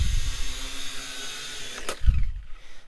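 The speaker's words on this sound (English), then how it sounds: "But here's what it looks like when it tries to take off." Syma X5C quadcopter drone with a suspected faulty rotor whirring as it tries to take off, a steady high motor whine followed by a brief sharp clack and low thumps, close and alone.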